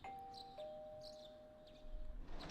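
Doorbell in the video game Persona 4 Golden, a clean two-tone electronic ding-dong chime ringing once and then sustaining, fairly faint over quiet game ambience.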